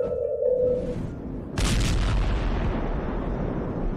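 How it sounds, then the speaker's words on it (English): A deep boom of the Seneca guns, the earth-shaking sounds heard in parts of North Carolina, bursts out suddenly and loud, then rolls into a long low rumble with no voices. "Earth-shaking booming sounds have been reverberating off some parts of North Carolina for more than 150 years."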